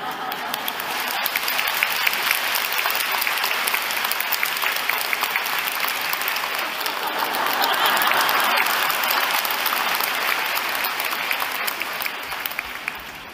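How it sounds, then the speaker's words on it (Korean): Congregation at a Sunday worship service breaking into loud, sustained applause, dense clapping rolling on for over ten seconds with no voices on top. "여러분이 박수 치는 것처럼 그들도 일어나서 박수를 칩니다."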